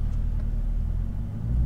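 A 2019 Chevrolet Camaro ZL1 with 650 horsepower being driven, heard as a steady, heavy low engine rumble close by, with no talk over it.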